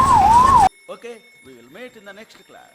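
An ambulance siren wails loudly in a Bangalore traffic jam for a moment, then cuts off abruptly and leaves voices talking in the street.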